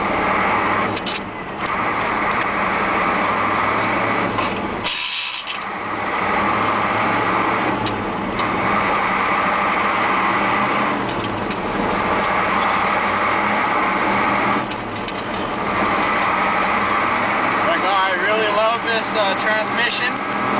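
Ford F800 truck with a Cat V8 diesel driving, a steady loud engine drone inside the cab with shifts and revs, while someone talks over it.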